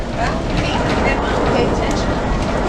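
Amtrak Coast Starlight train rolling northbound along the tracks, a loud continuous rumble and rattle of the carriage heard from inside, with a voice speaking over it.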